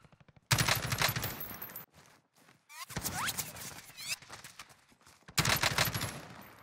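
A SCAR rifle fires in Warzone, Modern Warfare, in several loud close bursts of rapid shots separated by brief pauses, with faint footsteps and game sounds in between.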